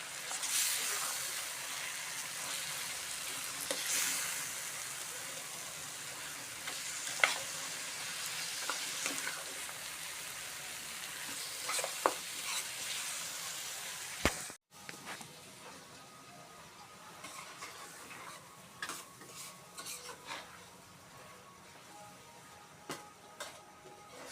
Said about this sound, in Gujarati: આ મિક્સ થઈ ગયું છે હવે આપણે એમાં નાખી દઈશું આ લીલી મેથી મિક્સ કરી નાખશું